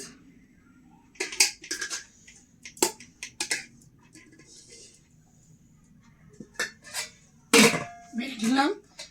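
Rice being served onto a plate at home for a Bengali lunch, heard as scattered clinks and scrapes of a spoon against the plate, with short louder clatters, close by in a quiet room.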